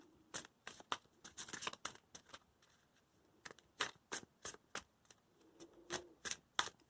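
Wildwood Tarot cards being shuffled close up, crisp papery snaps and riffles in quick bursts separated by short pauses.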